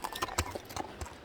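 Horse hooves clop on the ground in an uneven rhythm of several close, sharp knocks as a horse is shown for sale outdoors, with faint background noise.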